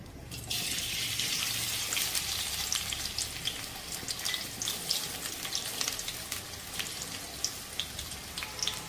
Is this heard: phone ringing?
no